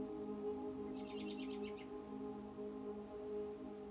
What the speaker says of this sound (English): The birds are loud now.